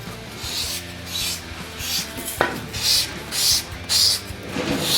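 Sandpaper rubbed by hand over the angled cut edge of a small hobby model obelisk piece, giving close, rhythmic rasping strokes in repeated bursts with one sharper scrape partway through.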